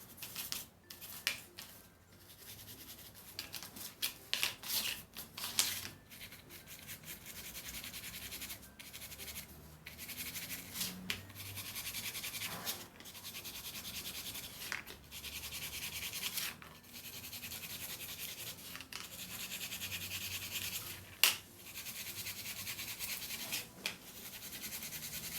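Dry brushing paint across a rustic decorative MDF Christmas plaque, with soft repeated scratchy brush strokes in a steady rhythm, close and fairly quiet.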